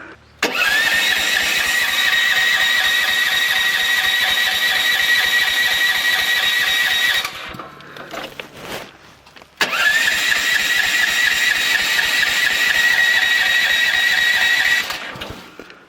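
A Mygale 500 micro excavator's engine cranks and catches, running at a loud, steady idle for several seconds, cuts out briefly, then restarts and runs on steadily before stopping.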